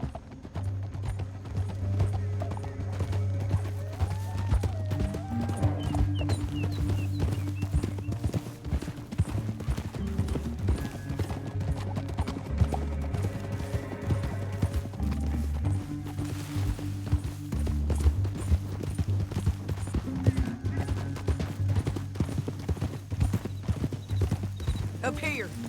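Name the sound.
horses galloping, clip-clop, in video game Red Dead Redemption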